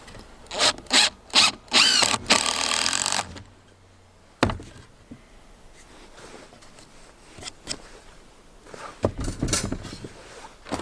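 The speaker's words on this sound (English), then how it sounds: "Now when I put my screw in, my screw is going to have a nice flat spot to clamp down on that piece of wood." A power drill drives screws into wood for a freestanding climbing wall: several short bursts of whirring for about three seconds, then quieter rubbing and handling noises, with another short buzz near the end.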